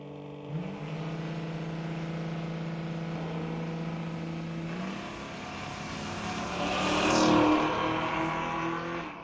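Drag race launch at a sunset showdown pitting a small S10 Blazer against a Mustang, with a strong engine note that rises and builds to a loud whooshing peak as the cars pull away.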